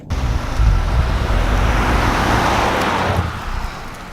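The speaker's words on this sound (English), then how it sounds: "So we are now driving the 2016 Cadillac Escalade." A 2016 Cadillac Escalade SUV drives on the road, giving a loud, steady low rumble of engine and road noise from the cabin that swells early and eases near the end.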